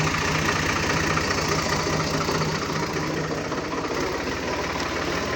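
A tractor engine idles in a steady, even chugging rumble, fairly loud and unbroken for the whole stretch, with no talking.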